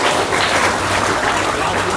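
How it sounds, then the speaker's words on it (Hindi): A crowd at an Independence Day event at a public school in Kishanganj gives loud, dense applause for a speaker, a continuous wash of clapping that fills the whole short moment. "एक बार ज़ोरदार तालियां हो जाए"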